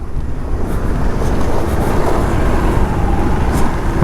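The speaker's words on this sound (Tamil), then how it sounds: "அவ்வளோ டிராஃபிக் இருக்குது." A congested road in heavy traffic, heard from a Hero Xpulse 200 adventure motorcycle on a touring ride: a loud, steady rumble of idling and crawling engines that fills the scene without a break.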